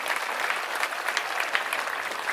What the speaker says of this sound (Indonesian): Tepuk tangan untuk pariwisata kita.